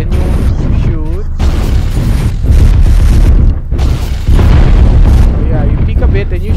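Mech weapons fire in the MechWarrior Online video game as a dense, loud run of booms and blasts that barely lets up, with a voice talking over it.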